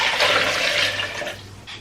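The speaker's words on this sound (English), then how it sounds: "I'll just add 1 cup of water." Water poured from a cup into a blender jar while making a carrot skin drink, a steady close splashing pour that tapers off near the end with no talk.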